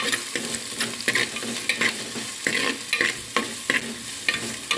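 Onions frying in a pan for a Mangalore-style dish, with a steady close sizzle broken by regular scraping stirs of a spatula throughout.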